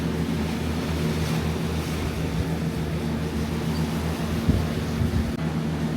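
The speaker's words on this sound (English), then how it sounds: "Look at that water getting churned up" Sea water churns in the wake of the cruise ship Carnival Freedom: a steady wash of rushing water and wind noise over a low, constant engine hum.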